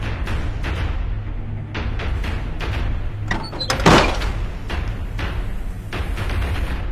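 A house door is flung open forcefully, giving a single loud thud near the middle, set against steady room noise.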